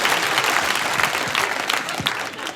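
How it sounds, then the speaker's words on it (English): Comedy club audience breaks into applause during a stand-up show, a dense, loud burst of clapping with scattered sharper claps, fading slightly near the end. "Yes, the first applause break in the show"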